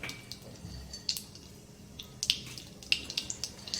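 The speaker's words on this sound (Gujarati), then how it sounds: "હવે રાઈ થોડી તતડે" Mustard seeds pop and crackle in hot oil in a pan, with sharp scattered clicks that quicken over a low sizzle and come through close and clear, with no talk.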